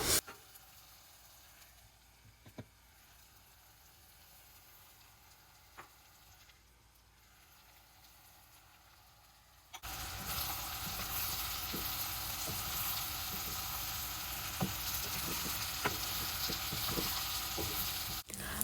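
Unroasted vermicelli fries in oil in a pan for Tamil oats semiya kichadi, first a faint sizzle with occasional ticks, then a loud, steady crackling fry with stirring for the second half.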